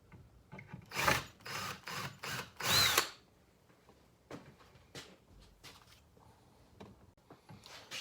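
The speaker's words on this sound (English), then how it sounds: "I'm just going to make a little dimple here with this drill" A power drill whirs in several short bursts while drilling a shallow pilot dimple for a lock bolt, then quieter clicks and handling noises follow; no talking.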